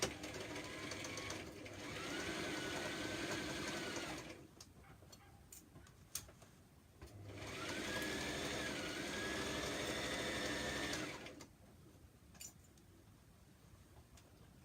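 A sewing machine back-stitches a seam on a homemade top, giving two faint runs of whirring stitches with quiet gaps between them.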